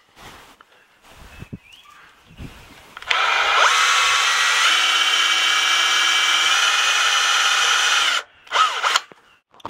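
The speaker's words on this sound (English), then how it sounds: "I'm going to make the first drill." A power drill whirs steadily and loudly for about five seconds, biting into the thick wall of an RV tank, then stops; light handling noises before and after.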